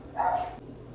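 Dogs bark at a delivery man arriving, with one loud, close bark burst early on that cuts off abruptly, then a quiet room with low hum and no talking.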